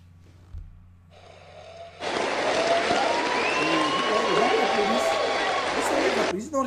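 An audience at a show breaks into loud, sustained applause after a quiet start, a dense wash of clapping that carries on for several seconds, with talk audible underneath.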